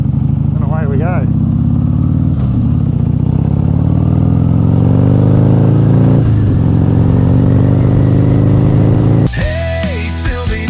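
Motorcycle ridden with the throttle held wide open, a steady loud engine drone rising in pitch as it accelerates, with wind buffeting throughout and a voice speaking briefly near the end.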